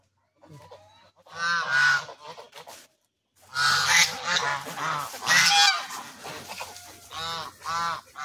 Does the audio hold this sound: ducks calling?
yes